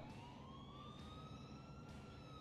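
An ambulance siren in GTA 4 rises in a long, smooth wail, sounding close and constant above a dense, noisy engine and traffic rumble, with no voices.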